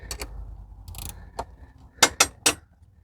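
Wrench loosening a bolt on a BMW i3 12-volt battery, a handful of sharp metallic ratchet clicks in short irregular bursts, close and clear with no talk.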